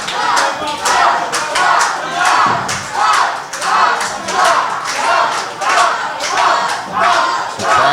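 A wrestling crowd at a live professional wrestling show cheers in loud rhythmic waves, the chanting swelling and falling roughly once per second, dense and close throughout with no clear talk on top.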